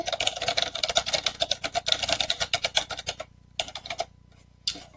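Rapid clicking keystrokes on a computer keyboard, close and continuous, then breaking into short bursts separated by pauses near the end.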